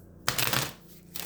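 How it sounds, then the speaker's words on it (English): Tarot cards riffle and slap together in a quick shuffle, a dense papery flutter that fades and then picks up again briefly, close and fairly quiet. "So let me shuffle the cards."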